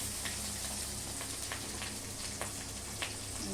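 Curry leaves, onion and green chili frying in hot oil, a dense continuous crackling sizzle with small popping spatters, close and steady throughout.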